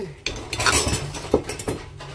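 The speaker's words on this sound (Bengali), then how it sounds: "দেখো পুরো দোকানের মতন ঠং ঠং করে আওয়াজ হচ্ছে" Metal utensils clang and clink against a frying pan as fried potato-and-cauliflower samosas are lifted out, a few sharp close-up knocks in quick succession with no talk.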